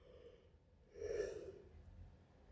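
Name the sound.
yawn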